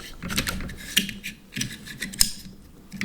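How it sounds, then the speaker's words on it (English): An AR-15 charging handle slides into the rifle on a reloading bench. Light metallic clicks and scrapes come up close in an irregular run of small ticks, with one sharper snap near the end. "we'll take the charging handle, put it in"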